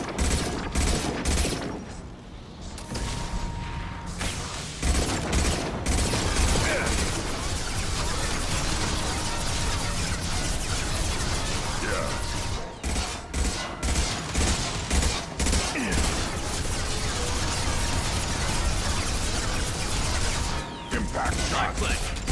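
Gunfire in the Mass Effect 2 game, during a shipboard fight in an airlock area: dense, continuous volleys of rapid shots and clattering mechanical sounds persist throughout, with a few brief gaps and game speech mixed in underneath.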